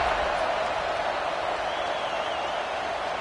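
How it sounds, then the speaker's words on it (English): A football stadium crowd buzzing after a score, a steady wide roar of cheering and chatter from thousands of fans, constant and loud without breaks. "this crowd is buzzing after that last score"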